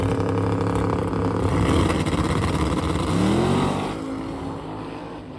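Race cars at the Sick Summer drag racing event roar loudly and continuously nearby, the engine noise swelling around the middle of the pass and easing off toward the end, with no talk over it.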